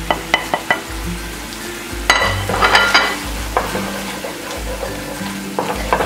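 Spices and paneer jalfrezi sizzle and fry in a pan, with steady crackling, occasional stirring scrapes and light clinks of a utensil against the pan, loud and close throughout.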